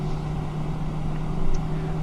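A321neo engine lighting off in the FlightSimLabs flight simulator, a steady low turbine hum and rumble with a constant tone, swelling slightly toward the end, close and alone with no talk.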